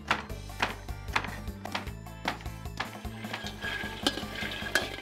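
Peanuts dry-roasting in a pan, stirred steadily, with repeated scraping and rattling taps of the utensil against the pan and a light sizzle underneath, close and fairly loud.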